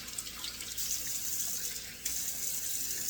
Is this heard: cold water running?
yes